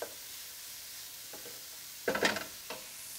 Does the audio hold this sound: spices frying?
yes